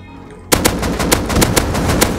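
A rapid burst of gunfire in the video game Rust erupts suddenly after a brief quiet moment, with sharp shots in a fast, steady rhythm, loud and close.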